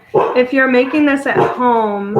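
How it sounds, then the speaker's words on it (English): A house dog barks in the background while a person keeps talking over it, the barks brief and partly masked by the voice. "sorry, that's the dog."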